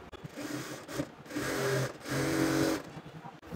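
Sewing machine running a second line of stitches along the side seam of a salwar, two close, steady whirring bursts separated by brief pauses.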